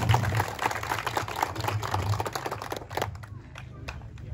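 Applause from the crowd at a swearing-in event for independent candidates, dense broadband clapping that runs steadily for about three seconds before thinning out, with a low hum underneath.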